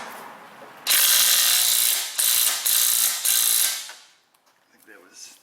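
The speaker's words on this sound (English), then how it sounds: "torque it to spec" A torque wrench ratchets while tightening a ball joint bolt on a Subaru, a close, loud run of clicking strokes in four quick bursts that stop abruptly and fade into quiet.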